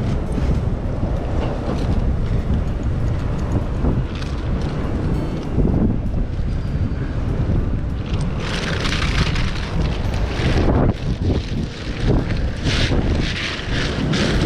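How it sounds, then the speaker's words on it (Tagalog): Strong wind buffets the microphone in constant heavy gusts, with rushing, roaring noise that intensifies toward the end. "Grabe talaga yung hangin."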